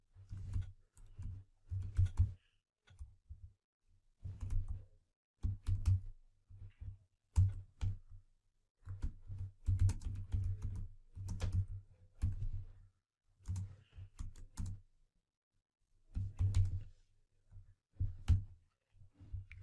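Java code being typed on a computer keyboard: irregular bursts of close, quiet key clicks with brief pauses between runs, and no talk.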